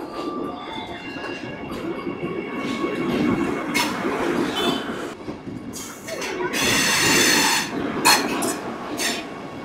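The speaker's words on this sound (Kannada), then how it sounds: "ವಂದೇ ಭಾರತ್ ಎಕ್ಸ್ಪ್ರೆಸ್ ಬರ್ತಾ ಇದೆ ನೋಡಿ" A Vande Bharat Express pulls into a station between Bengaluru and Mysuru, its broad rolling rumble building steadily with bursts of hissing and wheel squeal, loud and close throughout, and a faint voice in the background.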